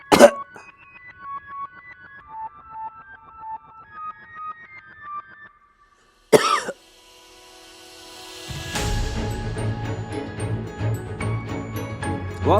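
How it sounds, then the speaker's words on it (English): A person coughs in two harsh, abrupt bursts, one at the start and one midway, each followed by electronic tones and warbly effects-laden music that swells into a dense, fuller passage. "Why have I got so much cough?"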